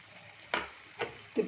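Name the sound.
stirring chicken curry with chili powder in pan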